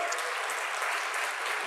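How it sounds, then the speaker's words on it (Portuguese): Applause from a church congregation, a steady even wash of many hands, fairly faint and continuous with no voices over it. "Pode aplaudir ao Senhor."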